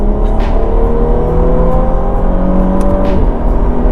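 A car engine runs and revs close by, a loud steady mechanical drone with rising tonal whine as the throttle opens, sustained throughout without talk.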